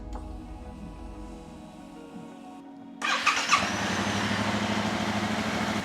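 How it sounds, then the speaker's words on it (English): A 2022 Yamaha R7 motorcycle cranks and starts after a steady electrical whine, its engine catching with a sharp burst before settling into a loud, even idle close by. "All right, so we'll do a quick startup for you guys."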